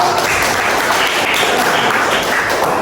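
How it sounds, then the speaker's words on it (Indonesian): A classroom full of people applauds after a group presentation, dense clapping that stays loud and steady from start to finish. "Tepuk tangan untuk semua."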